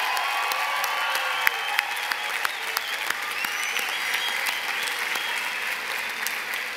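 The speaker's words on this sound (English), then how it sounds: "give a big round of applause to the class of" Graduation crowd at the 2017 USC Annenberg School for Communication commencement applauds the class of 2017, a broad, sustained wash of clapping from a large audience with a few sharper nearby claps standing out.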